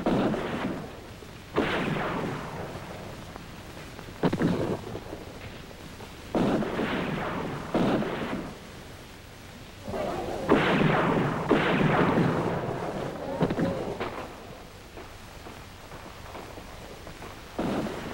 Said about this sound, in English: They're still firing.